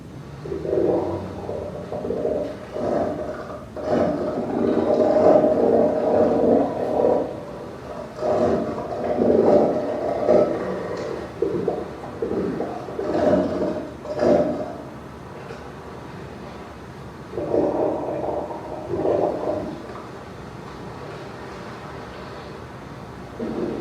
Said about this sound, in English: So they're practicing for when it's mating season and when they're older and they have to fight for a harem of lady seals.